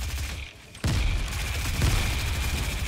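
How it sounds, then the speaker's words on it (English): Thrown grenades go off in the Fortnite video game: a muffled lull, then a sudden loud blast that rolls into a sustained rumbling barrage of detonations and crackle, with nobody talking. "chucking my nades"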